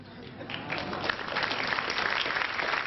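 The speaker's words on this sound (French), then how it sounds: "je veux qu'on applaudisse" A concert or awards-show audience claps steadily, a dense wash of applause that swells slightly and holds loud throughout.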